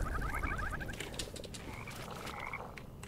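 Big frog in the video game Mortal Shell, a rapid, rattling croak trill up front, then softer warbling croaks over a low rumbling ambience.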